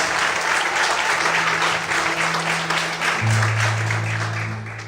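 Sustained applause from a church congregation fills the room during worship, thick and steady over held organ-like tones, fading slightly toward the end.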